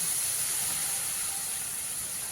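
A small amount of water hits a pan of fried green tomatoes cooking for a sour dried-fish curry, setting off a steady, loud hiss of steam and sizzle that holds for a couple of seconds with no talking.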